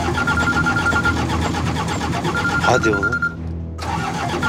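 A car engine cranks and catches, a rapid mechanical churning that turns into a running rumble before briefly dropping out and resuming, close and loud, with a voice speaking over it.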